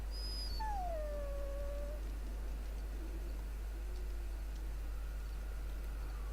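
A dog whimpers in Dragon Age Origins, a couple of thin descending whine tones over a steady hum of game background noise, heard alone without talk.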